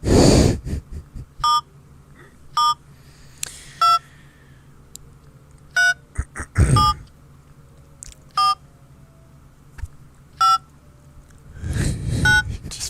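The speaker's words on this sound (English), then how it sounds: "Dial the phone here." A telephone is dialed to call a health clinic: a sequence of about a dozen short touch-tone beeps in an uneven rhythm, loud and close, interspersed with breathy rustling.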